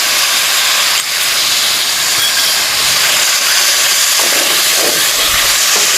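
Chicken jalfrezi pieces frying in a pan with ginger garlic paste, giving off a loud, steady, close sizzle and hiss that carries on without a break.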